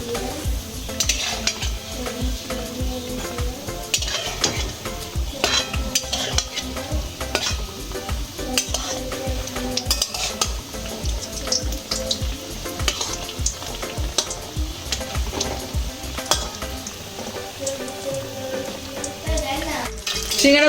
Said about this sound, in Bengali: সিঙ্গারাগুলো আমার ভাজা হয়ে গেছে, আমি নামিয়ে নিচ্ছি।